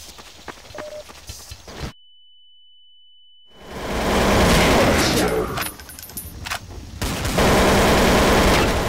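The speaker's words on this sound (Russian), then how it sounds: "Отличный выстрел." Rapid bursts of gunfire in a Counter-Strike Source deathmatch, with dense shots fading out and then a brief silence before loud firing returns under game voice lines.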